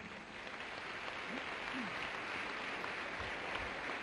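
Audience applause at a religious talk, heard as a steady, moderately faint wash of clapping throughout, with a couple of brief voice-like tones and low thumps mixed in.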